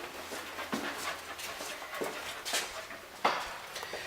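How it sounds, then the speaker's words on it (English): A dog pants steadily and close by in a quiet indoor room, with rhythmic breathy puffs and a faint whine or two mixed in. No one speaks. "This dog's throwing me off."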